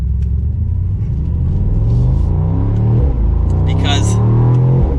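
A 2022 Mercedes-Benz SL63 Roadster's twin-turbo V8 pulls under mild acceleration, a close, deep, rising engine drone that climbs in pitch through two pulls, with someone talking over it.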